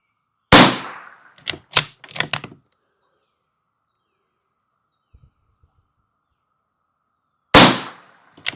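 Sharp gunshots fired at a target: one loud crack, a quick irregular cluster of several more, then after a long quiet pause a final loud report, each close and abrupt with a short decay.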